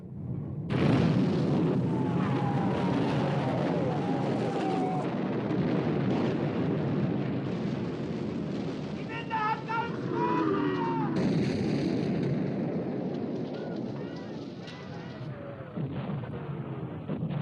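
Naval gunfire from a battleship at sea, a loud, sustained roar of heavy guns and explosions with rumbling booms continuing throughout, layered with whistling and battle noise.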